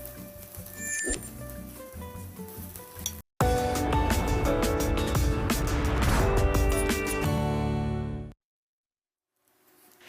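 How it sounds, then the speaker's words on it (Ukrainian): Fuchky, Lemko pancakes, sizzle in a frying pan, a loud steady frying hiss with clinks of a utensil against the pan, then a sudden cut to silence near the end. "вони фукають тут на пательні, шкварчать"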